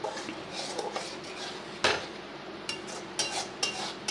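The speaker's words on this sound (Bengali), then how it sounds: "1 চামচ মতন দিয়ে নাড়িয়ে কয়েক সেকেন্ড একটু নাড়াচাড়া করে এটাকে নামিয়ে রাখবো।" Mustard fish curry with pakal (eel) fish being stirred in a pan with a spoon, giving steady scraping and stirring with a few sharp clinks of utensil against the pan, close and fairly quiet, with no talk.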